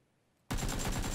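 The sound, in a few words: gunfire with heavy recoil in PUBG video game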